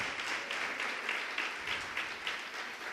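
A church congregation applauds together, a steady wash of many hands clapping with rhythmic swells, fairly close and continuous with no talk over it.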